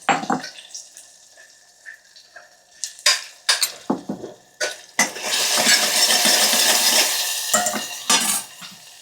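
Softened tomatoes with salt, chilli powder and turmeric fry in a pan for tiffin-centre sambar, with a few sharp utensil clinks and scrapes, then a steady sizzling hiss rising midway, close and fairly loud.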